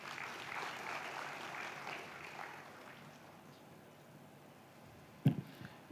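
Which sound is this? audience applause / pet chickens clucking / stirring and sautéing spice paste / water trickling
audience applause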